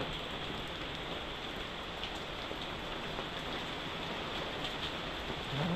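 Heavy rain pours steadily on a street and sidewalk in Japan, a dense, constant hiss that stays loud and unbroken with no voices.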